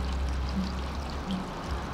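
Water gushing steadily from a broken street water pipe, a continuous loud rushing pour outdoors with no pauses.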